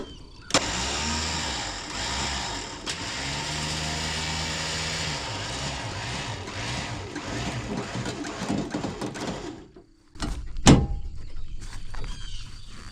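A Lincoln Town Car converted into a tow truck drives along with a steady engine drone and rattling road noise throughout, close and moderately loud, then a sharp knock and a brief dip before the driving noise resumes.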